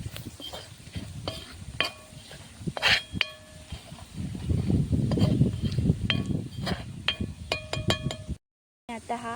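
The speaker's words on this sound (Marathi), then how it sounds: "आता हे व्यवस्थित मिक्स करून घ्यायचं" A spoon stirs a homemade masala mixture in a pan for a kalva fry. Metal scrapes and bright clinks of spoon on pan come in bursts over a soft sizzle, with a brief silent gap near the end and a little talk at times.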